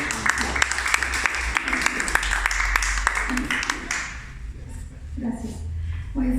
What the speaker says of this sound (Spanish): Yo les pediría un fuerte aplauso para recibirla.